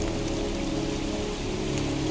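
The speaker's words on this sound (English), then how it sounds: "standing in a cemetery, pouring rain" Pouring rain in a cemetery in the video game Heavy Rain, a dense, constant hiss of heavy rainfall hitting surfaces, loud and steady throughout with no voices.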